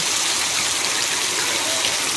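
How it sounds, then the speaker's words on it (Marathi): Heavy rain pours down in the Konkan, a dense, loud, continuous hiss of water that stays steady throughout with no breaks and no voices. "आज बघा तुफान पाऊस"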